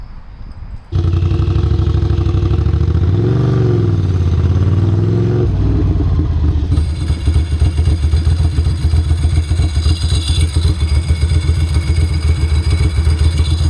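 A Ducati Monster M900 motorcycle after carburetor tuning starts up close and loud, then settles into a rough, pulsing idle with a brief rev partway through, steady and uninterrupted to the end.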